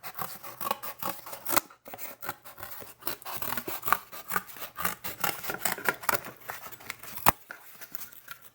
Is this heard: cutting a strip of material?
yes